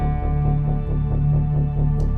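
A keyboard synth pad patch plays a soft, sustained chord at slow tempo, its warm tones pulsing gently in a steady rhythm with a low bass underneath.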